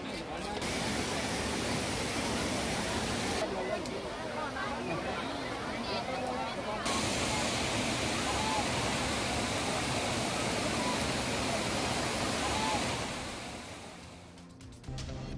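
Waterfall at Kodiveri in Tamil Nadu with tourists bathing, a dense steady roar of falling water filling the scene throughout, close and loud, with crowd noise blended in.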